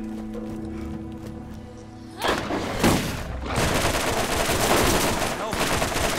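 A steady electronic hum gives way to a turret opening fire in the video game Borderlands: loud, sustained rapid bursts of gunfire with booming impacts, continuing to the end.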